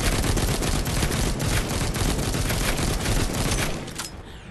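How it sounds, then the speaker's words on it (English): An assault rifle rattles off in the Walking Dead Onslaught zombie game, a loud, dense stream of rapid shots with barely a break, easing off near the end. "Well, I have an assault rifle."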